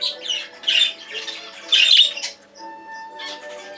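A nervous pet bird in a breeding cage lets out several loud, harsh squawks in irregular bursts close by, with quieter chirps and a thin whistle in the pauses between them.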